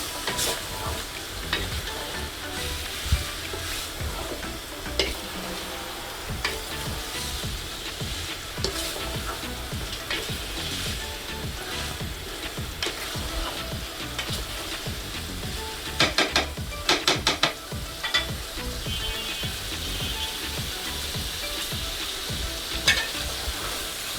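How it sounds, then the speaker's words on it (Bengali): Chicken biryani sizzling in a pot while a spoon stirs it from the bottom, a continuous close frying hiss with scraping strokes and occasional clinks of utensil against metal. "ভালোভাবে সুন্দর করে এটা একদম নিচ থেকে নাড়া দিতে হবে।"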